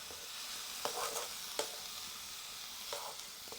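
Greens with a little salt being stirred in a hot pan, a quiet constant sizzle with a few brief scraping strokes of the spoon.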